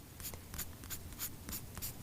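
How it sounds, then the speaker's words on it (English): Quick pencil strokes on paper, drawn in one direction with pressure and then lifted to build a fur texture, sound as a steady series of short, dry scratches repeating about every quarter second, close and fairly quiet. "I'm going in one direction, making pressure, and then picking up my pencil quickly."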